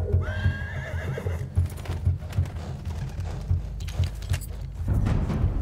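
In Battlefield 1, a horse whinnies, then hooves clop in a steady rhythm on hard ground, with a short burst of louder rumbling near the end.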